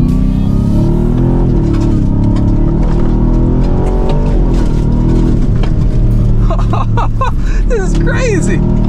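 A 700-horsepower Ford Raptor R accelerating across a dry lake bed, its loud engine droning and rising in pitch close by while people talk and exclaim over it.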